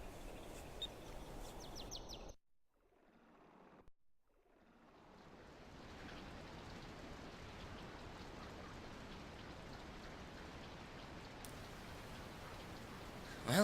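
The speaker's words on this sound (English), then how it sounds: "Well, it's been raining all day." Rain falls in the video game Skies of Arcadia as a steady, soft wash; it cuts out briefly and then returns, continuing evenly.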